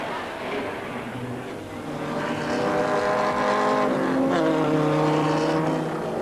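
A green number 7 Maserati race car in a 1947 race, driven by Reg Parnell, roars flat out. Its loud, sustained engine note climbs and shifts in pitch as it passes close by.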